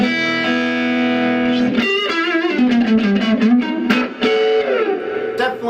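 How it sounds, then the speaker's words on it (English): Fender Vibro Champ XD tube amp with the gain cranked, a distorted electric guitar ringing out sustained chords and short riffs with a gritty, compressed edge, loud and steady throughout with no voices. "definitely that black face crank tone you're getting out of it"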